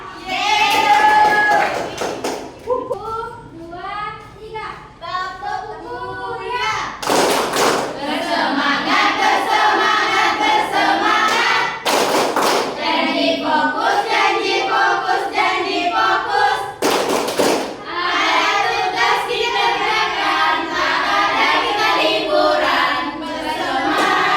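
A class performs the tepuk kuliah routine, voices chanting in rhythm with a few loud, sharp bursts of group clapping spaced through the chant, close and lively.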